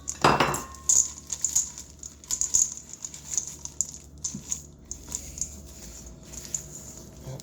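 White chocolate chips being stirred into cookie dough in a bowl, with repeated close clinks and scrapes of a utensil against the bowl in an uneven rhythm and no talking.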